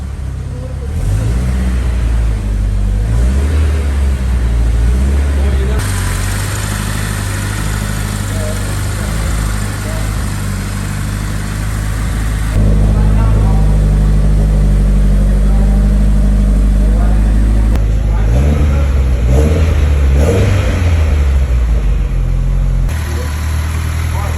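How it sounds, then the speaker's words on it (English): A turbocharged Honda S2000 engine runs loud and close, with a steady idle stepping up into repeated revs across several segments, sharp pops and backfire crackle breaking through the rising and falling engine note. "Heavy backfire, but runs great."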